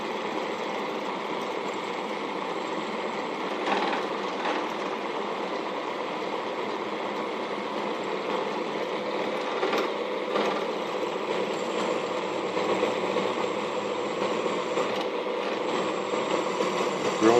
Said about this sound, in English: I'm drilling on a flat spot.